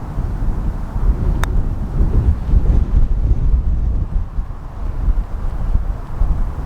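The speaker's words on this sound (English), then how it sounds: "Strong that wind, just drifted a bit right" A strong wind buffets across a links golf course in a loud, continuous low roar, gusting and rumbling with no voices over it.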